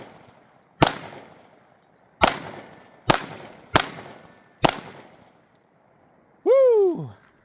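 Five sharp, loud shots from a Smith & Wesson M&P 22 Magnum pistol at irregular spacing, each with a short ringing decay, followed by a brief whooping voice.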